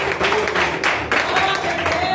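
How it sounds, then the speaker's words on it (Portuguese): A church congregation claps and applauds at an evening service, a moderate, continuous wash of hand claps with a voice speaking over it and a tonal backing underneath. "Aplauda Ele nessa noite."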